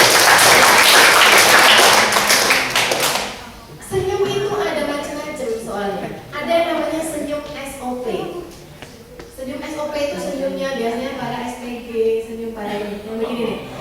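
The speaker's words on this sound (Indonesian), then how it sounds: "tepuk tangan buat anak-anak" Loud applause from a training-session audience clapping for children fills the first three seconds, a dense burst of hand claps that ends abruptly before a voice continues talking.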